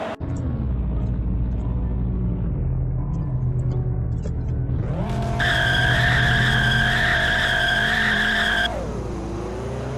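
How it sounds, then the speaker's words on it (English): Acadia TSR car in the Roblox game Greenville swinging through a U-turn, with a steady engine drone rising into a loud, sustained tire squeal for several seconds before dropping back to the engine hum. "another cool trick that this car can do is it can do perfect U-turns"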